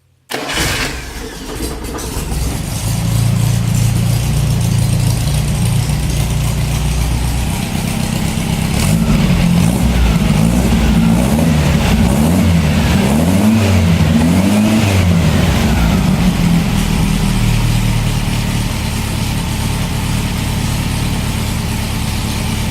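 A VW 1600 engine, stored unused for nine years, cranks and fires up, then settles into a loud, steady, close idle with slight rises in revs midway, and nobody speaks.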